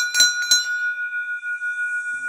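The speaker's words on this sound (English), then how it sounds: "I'm gonna ring the bell hard against bears." A bell rung hard to scare off bears in Japanese bear country: two sharp, bright strikes close by, then a long ringing tone that fades slowly.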